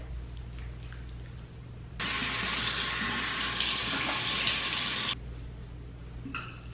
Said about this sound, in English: I'm gonna go in and actually wash my face